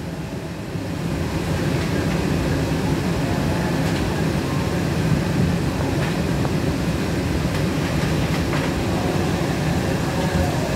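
Inside an MBTA Green Line CAF Type 9 train on the outbound B Branch, a steady loud rumble of wheels and motors runs throughout after a brief quieter start.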